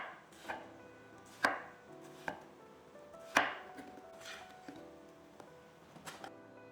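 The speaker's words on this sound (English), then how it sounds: "Cut your winter melon into about 1-inch chunks." Knife chopping winter melon into roughly one-inch chunks on a board: a handful of sharp, separate chops at an uneven pace, close and clear against a quiet room.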